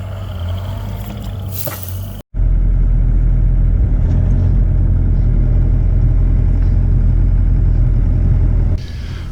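A Bobcat e42 mini excavator's engine runs steadily while repositioning during duck pond digging, a loud, even mid-pitched drone after a brief cutout, with no talking.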